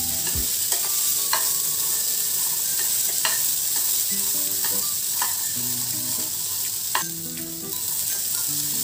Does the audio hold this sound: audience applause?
no